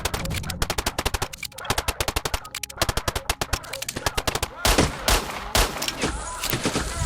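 Pistol and automatic gunfire in a firefight with a military patrol in the video game STALKER Shadow of Chernobyl, a dense run of sharp, loud shots rattling back to back, with heavier bursts and louder blasts near the end.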